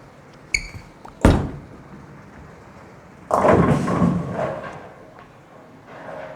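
A Radical Rattler Big Bite bowling ball is thrown, with a sharp thud as it lands followed by a deep rolling rumble down the lane; a couple of short knocks come before it, with a noisy alley in the background.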